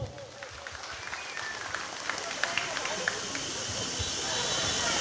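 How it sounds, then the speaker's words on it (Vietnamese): Applause from gathered guests at a company's headquarters opening and fifth-anniversary ceremony, a steady crowd clapping with scattered sharper claps and background murmur, moderately loud throughout. "Xin đề nghị các bạn một tràng pháo tay để chúc mừng."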